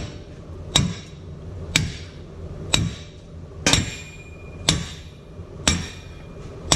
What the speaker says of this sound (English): I got my trusty sledgehammer right here, big 10-pounder